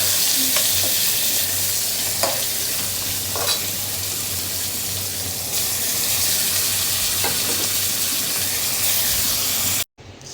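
Beef frying in a pan gives a continuous loud sizzle and spatter, with occasional stirring scrapes, and then cuts out abruptly near the end.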